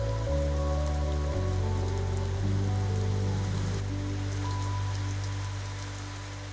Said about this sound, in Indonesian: Hujan masih deras mengguyur sore ini.